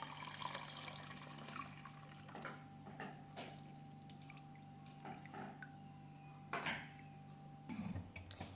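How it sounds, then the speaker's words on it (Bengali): Milk is poured into a yogurt maker container, a faint soft trickle and splash at close range with a few small clinks, over a low steady hum. "এবার আমরা দই মেকারের পাত্রটিতে দুধটুকু ঢেলে নেব।"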